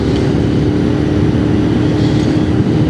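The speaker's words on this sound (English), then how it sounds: "I really like that parallel twin exhaust note" A Royal Enfield Continental GT parallel-twin motorcycle exhaust drones loud and steady, a continuous low throbbing note heard up close while riding, with wind rush over it.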